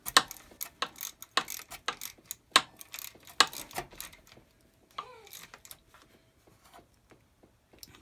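Ratcheting wrench clicking in quick bursts while bolts are tightened in a crisscross pattern during a fender replacement, loud close clicks for about four seconds, then sparse quieter ticks and a faint squeak.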